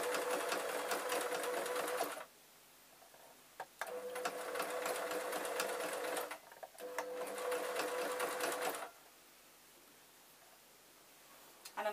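Sewing machine stitching a felt beret, running in three bursts of rapid whirring stitches separated by short pauses, close and fairly quiet, with no talk.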